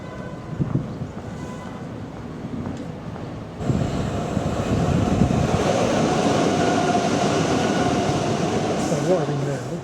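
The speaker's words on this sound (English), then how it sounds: "Arriving now is the 1520, which I'm catching to Mitcham Eastfields" A train pulls into a London railway station platform, starting with low ambient rumble before a sudden swell into a sustained broad roar of wheels and motors close by, holding steady as it arrives.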